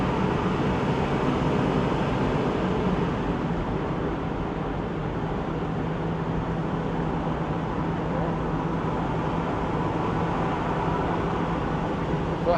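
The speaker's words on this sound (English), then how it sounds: "I got the back window open still, so I get a little bit of wind noise in here" Wind rushing through the open back window of a 1964 Ford Mustang convertible cruising at highway speed, a constant loud roar blended with road and engine noise, with talking on board.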